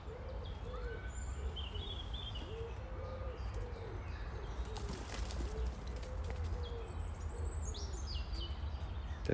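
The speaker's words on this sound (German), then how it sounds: "Das ist eine richtig alteingesessene Taube," A pigeon coos in repeated soft, low phrases against a steady outdoor background hiss, with a few faint chirps from other birds higher up.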